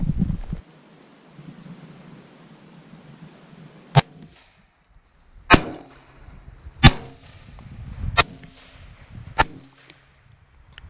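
Gunfire aimed at a peanut butter target outdoors: five loud, sharp shots spaced roughly a second or more apart, each with a quick echoing tail, preceded by a few seconds of wind and low rumble.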